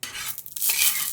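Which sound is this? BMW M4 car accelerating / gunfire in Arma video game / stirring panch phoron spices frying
stirring panch phoron spices frying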